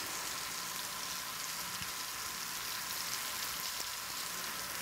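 Fresh farm-grown greens cook down in a heaped pan, giving a steady, soft sizzle and crackle with a few faint pops, quiet and continuous without talk.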